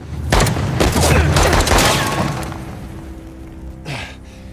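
Gunfire bursts in Uncharted: The Lost Legacy, dense and loud over the first two seconds, then tailing off into a quieter rumble with one more shot near the end.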